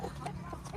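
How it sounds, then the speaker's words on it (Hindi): A hen clucks in a nomadic village in Sindh, Pakistan, a few short, soft clucks spread across a brief moment against a light outdoor background, with no speech. "यहाँ पे भी मुर्गी है"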